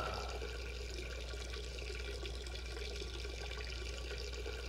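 Duke Nukem urinating in Duke Nukem Forever, a steady faint stream of water splashing continuously over a low hum, alone and unbroken throughout.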